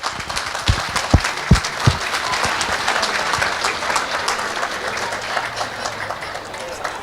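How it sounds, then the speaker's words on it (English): An audience applauds in a sustained, dense wash of clapping with a few loud, sharp individual claps standing out nearby, steady throughout at moderate loudness. "I want a big special thanks and a big special round of applause for what they have done."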